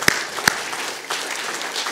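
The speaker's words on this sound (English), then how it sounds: "give the Lord a clap offering" A church congregation gives a burst of clapping during a service, preceded by two sharp, close claps, then an even wash of applause that carries to the end.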